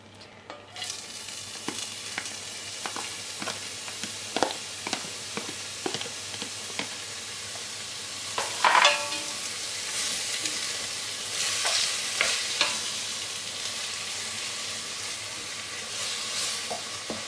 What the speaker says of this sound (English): Give it a good stir through.